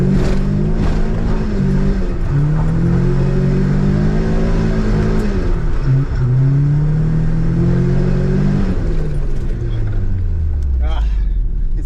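A car engine revs loud and close as the clutch is kicked to break the rear wheels loose, pitch rising and falling in repeated surges, with a voice talking over it.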